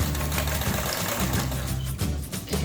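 A sewing machine stitches elastic for a headband with face mask, running in a continuous loud mechanical whir with brief dips in pace.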